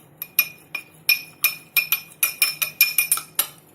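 A spoon stirring cornflour into water in a glass gives a quick run of bright clinks against the glass, about a dozen sharp taps in a brisk, slightly uneven rhythm, close and clear with no talking.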